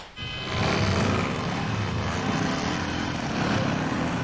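Loud, continuous engine roar from motorcycles revving at a pigeon roost in Tarumã, São Paulo, a broad droning rumble that swells in the first second and then holds steady throughout, with no talk.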